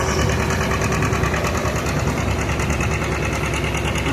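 A 1952 John Deere Model R tractor engine at an antique tractor pull thumps in a loud, fast, rhythmic beat, close up and continuous with no break.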